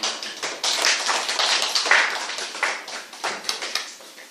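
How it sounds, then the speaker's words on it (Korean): A church congregation claps in applause during a worship service, a dense patter of many hands that surges and fades in waves over several seconds, with no talk over it. "하나님께 영광의 박수를 드립니다"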